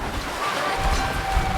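Ocean waves and wind during an offshore sailing passage toward Florida, a steady wash of surf and wind noise with no clear breaks.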